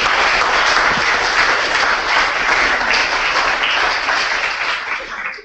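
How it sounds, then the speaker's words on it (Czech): Dense, loud applause from an audience after a student thesis presentation in a hall, a steady roar of many hands that begins to thin toward the end. "velký potlesk pro Míru"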